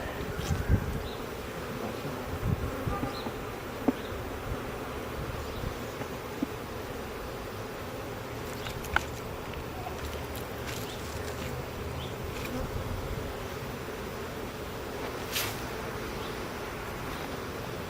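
Honeybees drone in a dense, continuous hum as they are installed into a hive outdoors in Ravenswood, Chicago, with occasional individual bees buzzing close by and faint clicks of handling.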